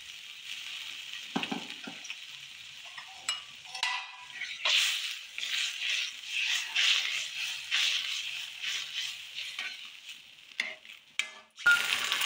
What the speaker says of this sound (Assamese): এতিয়া মই ইয়াতে এড কৰিছোঁ পানী। মই গৰম পানী লৈছোঁ।